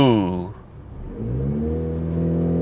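An Audi A5 with a 6-speed, running rough in limp mode, revs hard at full throttle after a short idle, the engine note rising and holding loud and close with a strong harmonic drone.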